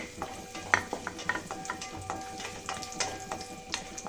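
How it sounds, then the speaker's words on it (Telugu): Raisins and almonds fry in ghee for a sweet poha offering, giving a soft, steady sizzle broken by a run of stirring scrapes and light clicks of a spoon against the pan, close and without talk. "కొంచెంసేపు ఫ్రై అయిన తర్వాత కిస్మిస్ వేసుకొని ఫ్రై చేసుకోవాలండి"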